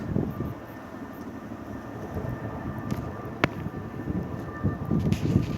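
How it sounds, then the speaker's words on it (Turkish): A distant amphibious firefighting aircraft engine drones steadily overhead at a forest fire in Çanakkale, Turkey, with wind noise, the rumble swelling slightly toward the end. "Amfibi uçaklar geldi."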